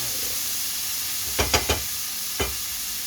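Ground beef frying in a pan for a Filipino spinach dish, giving a steady loud sizzle broken by a quick cluster of stirring knocks and one more knock shortly after.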